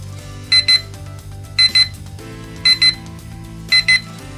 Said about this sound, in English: Now you can hear what the timer actually sounds like when it's going off, which would also be your alarm sound